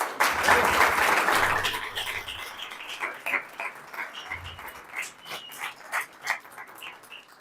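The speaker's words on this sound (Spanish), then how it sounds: "para quien les pido un fuerte aplauso." Lecture-hall audience applauding a speaker introduced for a talk on artificial intelligence, a loud burst of clapping that thins into scattered individual claps and fades, with a few low thumps amid it.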